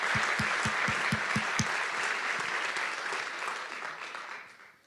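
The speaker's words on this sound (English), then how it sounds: "Norm, how about if we give these volunteers a round of applause?" Audience applause for volunteers at an evening presentation, a steady roomful of clapping that begins with a few sharp low thumps, holds for several seconds, then fades out toward the end.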